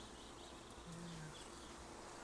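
Honeybees in an urban beehive hum faintly while building comb, a soft, continuous low drone under a hissy, noisy background, no talking.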